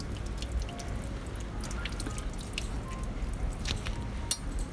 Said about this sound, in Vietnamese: khi gọt thì mình nên để trái măng cụt ở dưới vòi nước